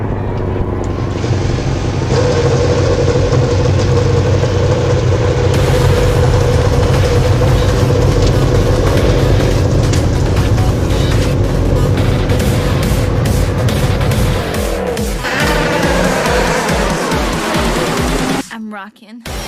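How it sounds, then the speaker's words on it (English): Race car engines fire up and idle together on a starting grid, a dense, loud mechanical drone running throughout under an announcer's voice, with a burst of revving near the end. "get these engines fired so we can get this event going"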